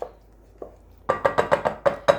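Batter of salt and egg being stirred with a magnetic spoon while making homemade hamburger buns, a series of six or seven close, rhythmic knocking scrapes following a quiet pause with one soft tap.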